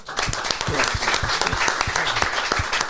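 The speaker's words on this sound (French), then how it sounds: "on applaudit" Studio audience applause during a live French comedy podcast recording: lively, close clapping with distinct individual hand claps standing out over a dense crowd layer, steady and fairly loud, with a few faint voices mixed in.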